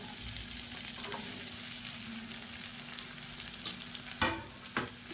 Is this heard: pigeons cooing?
no